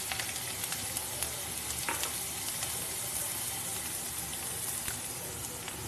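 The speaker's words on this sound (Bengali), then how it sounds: "আদা রসুনটা একটু ভালো করে আমি তেলে নেব কড়াইয়ের মধ্যে" Crushed ginger and garlic sizzle and crackle steadily in hot oil in a wok, with occasional stirring scrapes and small pops throughout, close and continuous with no talking.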